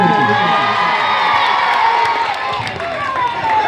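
A lively crowd claps and cheers for honoured guests at a Malayalam community gathering, a dense wash of whoops and children's shouts running throughout with hand claps mixed in.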